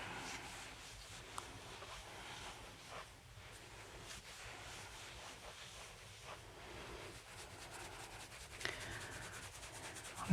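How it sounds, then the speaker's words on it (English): Palms rub on the scalp around the ear during an Indian head massage, a soft, close, rhythmic brushing and rustling that repeats about once a second without talking. "we're going to do a little bit of heel rubbing around the ear here"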